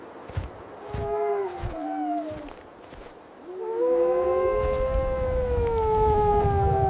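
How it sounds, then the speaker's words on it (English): Wolf howls, several long rising and falling cries that start and stop in the first half, then a sustained, steady howl held to the end, fairly loud and clear over a rough low background, with no talk. "It's a wolf."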